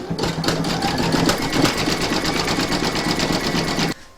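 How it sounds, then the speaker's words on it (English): An embroidery machine stitches a zigzag satin edge on an in-the-hoop stacked Christmas tree, a loud, rapid, even needle chatter with a steady motor hum that runs for about four seconds and then cuts off. "Then you're going to stitch round number 6, and that's going to do the zigzagging down this edge."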